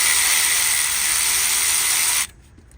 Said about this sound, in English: I'm gonna take the nut off the alternator.